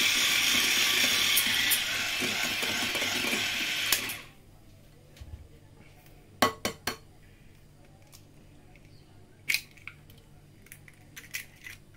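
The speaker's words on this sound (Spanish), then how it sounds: "Lo batiré un poco y echaré el siguiente" An egg being beaten into cookie batter in a bowl: a dense, steady whisking rush for about four seconds, then scattered clinks and taps of the utensil against the bowl.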